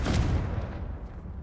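Bombarda blasting spell in Hogwarts Legacy, a single heavy booming explosion that hits hard at once and then decays into a rumbling tail.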